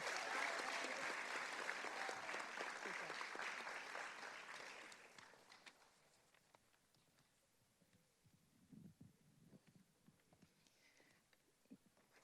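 Audience applause at a high school senior awards night for a trophy winner, dense clapping that fills the room then fades out after about five seconds, leaving scattered light sounds and faint movement.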